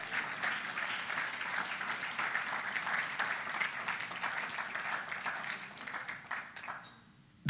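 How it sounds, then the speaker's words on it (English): A church congregation applauds steadily during a conference worship service, a dense mid-level wash of many hands clapping for about seven seconds before cutting off abruptly into silence. "Clap your hands and give God praise."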